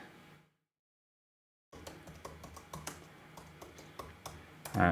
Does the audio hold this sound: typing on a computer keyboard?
yes